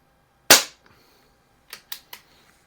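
A Crosman 1701P air pistol fires a wadcutter pellet from a rest with a single sharp, close crack, followed by a few fainter clicks and taps.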